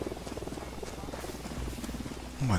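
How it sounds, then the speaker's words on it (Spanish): A helicopter in Tom Clancy's Ghost Recon Wildlands gives a steady rhythmic rotor thump with engine drone throughout, moderately loud, before a voice speaks briefly at the end. "Veo que viene... helicóptero."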